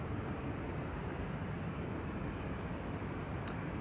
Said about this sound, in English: Swiss A320neo to Zurich is now lined up on the threshold of